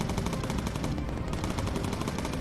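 Rapid, loud bursts of automatic cannon fire rattle continuously in a fast rhythm: aircraft cannon fire from an attacking fighter in the WWII bomber game Bomber Crew.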